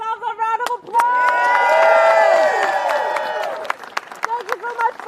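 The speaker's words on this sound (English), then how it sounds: "give yourselves a round of applause" Rally crowd at a protest over late payments to nonprofits bursting into applause and cheers, loud sustained clapping with whoops and raised voices swelling after a speaker's words and fading as talking resumes.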